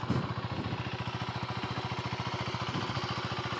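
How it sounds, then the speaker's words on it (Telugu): A KTM Duke 390 single-cylinder motorcycle engine idles steadily close by, its evenly spaced low thumps forming a fast, regular pulse throughout with no talking. "దీని ఇంజన్ సౌండ్ అయితే చెక్ చేయండి గైస్."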